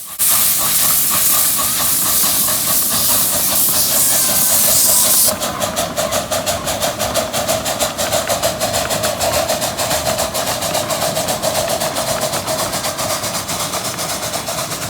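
Steam locomotive number 1 at a train museum pulls out of the station: a loud steady hiss of venting steam gives way to rapid, rhythmic chuffing exhaust beats that continue without any voices.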